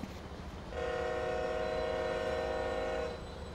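A diesel F7 locomotive in the train simulator game Train Sim Pro USA holds a steady tonal horn-like blast for about two and a half seconds over a constant rumbling engine drone, fairly loud and close, with no talk.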